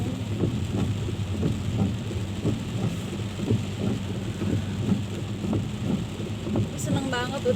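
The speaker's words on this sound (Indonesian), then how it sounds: "Hujan nih deras lumayan loh," Heavy rain pours around a parked car in Germany, a dense, continuous roar with low rumbling underneath that stays steady throughout.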